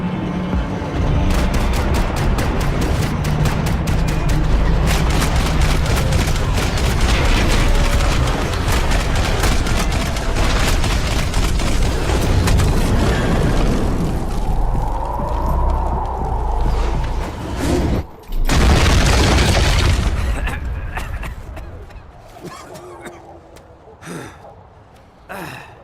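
Gunfire and explosions from the video game Max Payne 3 form a dense, loud barrage of rapid shots and heavy booms, with grunts and gasps mixed in. The action breaks briefly, swells again, then thins out toward the end.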